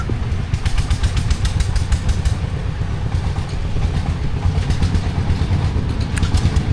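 Three-wheeled ladder trolley engine chugging steadily on a muddy village road at a construction site, a loud continuous low rumble with rattling clatter throughout, no voices.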